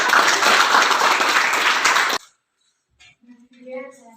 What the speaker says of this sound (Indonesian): Berikan dulu tepuk tangan nak.